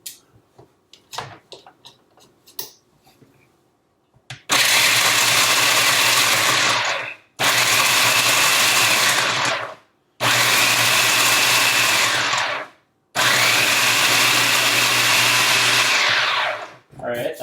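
A food processor grinding raw organic nuts into nut butter runs in four loud, steady whirring bursts with short pauses between them, after a few clicks and handling knocks at the start.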